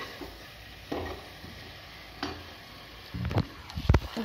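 Fish being stirred with spices in a pan, soft scraping strokes at intervals followed by a busier burst of stirring and clatter toward the end, faint and close with a low background hiss.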